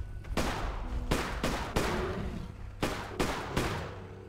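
Gunfire from a Bigfoot hunting video game, with several loud, sharp shots arriving in irregular bursts of two or three and short gaps between them, over a steady low background hum.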